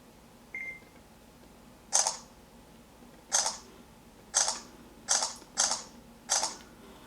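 A soft electronic beep followed by six sharp Samsung Galaxy S III camera shutter clicks at irregular intervals, quiet and close against a faint background hiss.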